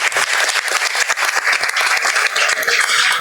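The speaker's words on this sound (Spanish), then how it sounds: "Un aplauso también para Catherine Toledo." Audience applause for Catherine Toledo, a volunteer firefighter, at a climate-change science talk: dense, even clapping from a room full of people, loud and sustained for the whole stretch with no talk over it.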